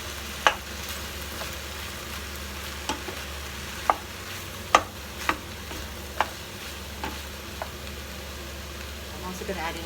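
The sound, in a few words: stirring pak choy and cauliflower in stew pot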